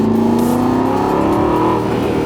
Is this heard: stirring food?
no